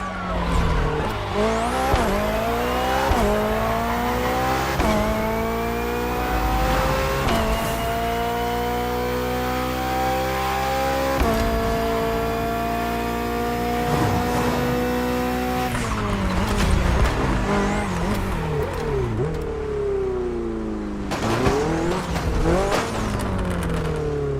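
A race car in The Crew Motorfest racing game, with loud continuous engine revving that climbs and drops through repeated gear shifts, punctuated by tire squeals and skids throughout.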